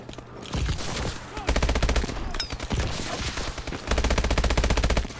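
Rapid automatic gunfire from a weapon in Call of Duty: Advanced Warfare, loud and close, coming in several sustained bursts separated by brief pauses.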